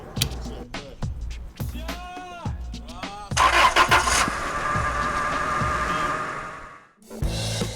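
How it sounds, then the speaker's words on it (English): A car engine started remotely through its starter motor relay cranks and catches, then runs loud and steady for several seconds before cutting off. Voices are heard at the start. "this one is connected to the car's starter motor relay, which starts the car"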